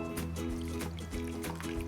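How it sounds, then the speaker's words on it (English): Water drains from an opened can of water chestnuts in a quiet, uneven trickle with small repeating gurgles and splashes over about two seconds. "And then we're just gonna drain out the water."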